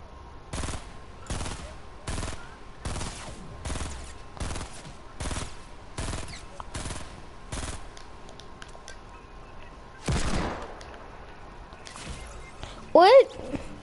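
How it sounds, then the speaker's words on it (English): Video game gunfire rings out as evenly spaced bursts of automatic shots, fairly close and steady, followed by a louder blast and a sharp burst near the end, with players talking throughout. "Someone's already shooting at you. Someone's shooting."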